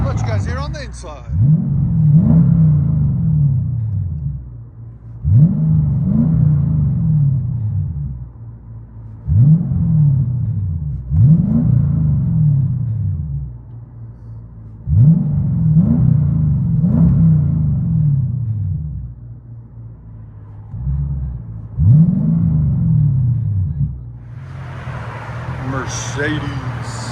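A supercharged Mercedes CL 55 AMG with a fully straight-piped exhaust is revved in a series of about eight sharp blips, each rising to a deep rumbling bark then falling back to a lumpy idle, loud and close.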